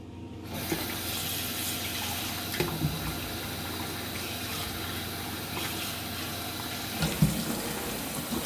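Cold tap water runs steadily onto boiled rice noodles in a kitchen sink, a continuous close hiss and splash with a few brief knocks along the way and no talking.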